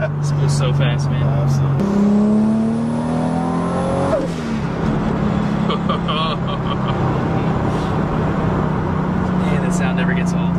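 Tuned Toyota Supra with a stock-block 2JZ-GTE making 800 horsepower, loud and close, climbing through rising revs with a gear change, then holding a steady high drone, with people talking over it.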